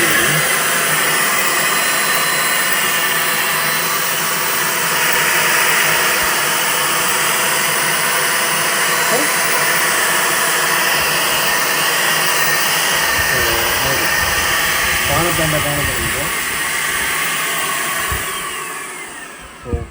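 A handheld electric spray paint gun runs continuously, a loud steady motor whine with a broad hissing airflow that holds for nearly the whole stretch before cutting off at the end.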